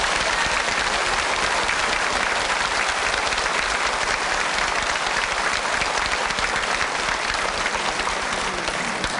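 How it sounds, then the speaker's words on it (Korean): A church congregation applauds during an anniversary revival service at a Full Gospel church. The clapping is thick, even and sustained, with a close, roomy sound, and it runs unbroken the whole time. "한번 박수로 한번 칭찬해주세요."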